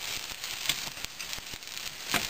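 Carrots and other vegetables simmer in a pan on an electric stove, giving a soft, steady sizzle with scattered faint crackles and light pops, heard alone at low volume.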